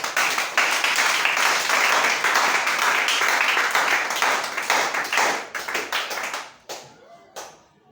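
Church congregation applauding for several seconds in a steady wash of clapping that thins out into a few scattered final claps near the end, with no speech over it.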